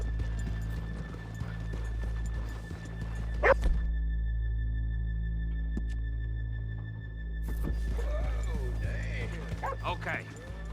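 Horses in Red Dead Redemption 2 clop and whinny nearby, with a sharp neigh around the middle and another toward the end, mixed with a steady low drone and faint background chatter.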